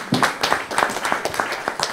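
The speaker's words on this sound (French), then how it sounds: "Je peux l'applaudir." An audience claps after a startup pitch presentation, a short, dense patter of hand claps heard close and fairly loud, with little talk over it.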